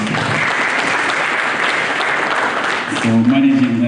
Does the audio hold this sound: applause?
yes